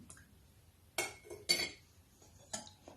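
A spoon clinks against a bowl while mixing dough after flour is added: a few sharp, close metallic knocks spaced over a few seconds, otherwise quiet.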